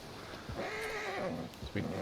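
A Leopard Appaloosa horse in Red Dead Redemption 2 gives a clear, drawn-out whinny lasting over a second, close and loud over a steady game ambience.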